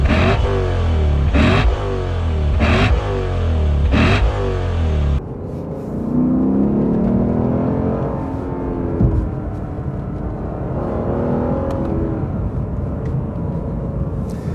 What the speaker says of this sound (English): you can clearly tell this is a high revving natural aspirated V8